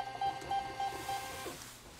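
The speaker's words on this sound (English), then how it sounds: "And then we're going to print." A Rollo label printer prints shipping labels, giving a few short repeated electronic beeps followed by a brief mechanical whir, quiet and close with no one talking.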